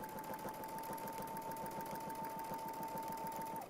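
A sewing machine stitches slowly along a Westalee ruler template, giving a faint, steady run of evenly spaced needle pulses under a thin, constant whine.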